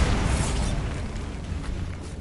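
Bombarda spell explosion in a Harry Potter video game, a loud close booming blast with a rumbling, crackling tail that fades over about two seconds.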